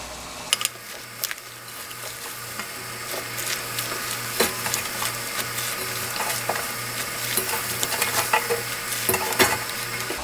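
Peeled taro stems dropped into a pot of boiling water give off a steady bubbling sizzle with scattered clinks and splashes, close and fairly loud, with no voices.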